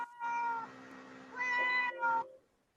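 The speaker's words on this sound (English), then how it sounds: "It's not my cat that's meowing, by the way." A cat gives three drawn-out, tonal meows: a long one, a second after a short pause, then a brief final call. They sound fairly faint and close, with no voices over them.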